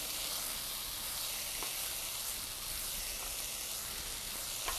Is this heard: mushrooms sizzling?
yes